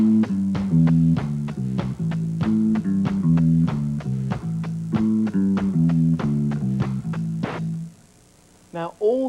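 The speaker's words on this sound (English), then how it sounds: "Now a triplet played over 2 beats sounds like this." A band plays triplets over two beats, a steady run of evenly spaced punchy chords with a pitched bass line for about eight seconds, then a brief gap and a couple of scattered notes.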